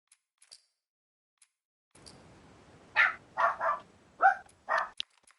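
Dogs in a PS5 game bark in a quick series of five or six sharp yaps after a quiet start, fairly close and loud, with no talk over them.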